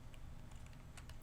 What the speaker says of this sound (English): The clicking you're hearing is a dropper.